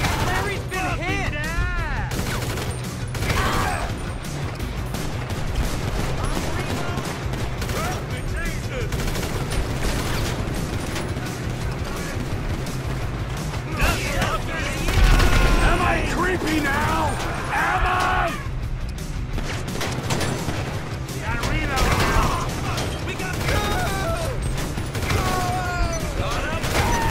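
Bursts of automatic gunfire and rifle shots during a GTA 5 rampage side mission against rednecks, rattling on and off for the whole stretch beneath frequent shouted voices, vehicle and mechanical noises mixed in.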